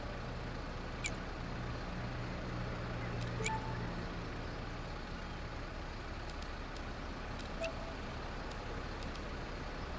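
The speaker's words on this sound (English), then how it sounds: "Doesn't that engine sound wonderful? I just love the sound." A bus engine idles and hums steadily in the Bus Simulator 21 video game, a low, faint, even drone, with a few brief sharp clicks and hisses standing out above it.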